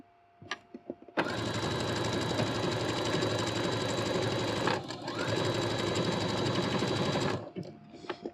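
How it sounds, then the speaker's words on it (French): Sewing machine running a blind hem stitch on fabric, a loud continuous motor whir lasting several seconds with a brief dip midway, starting and stopping abruptly. "je vais donc faire mon point d'ourlet invisible"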